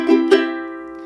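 Ukulele strumming rhythm: two quick strummed chords close together, then the chord rings on and decays, played alone and clearly.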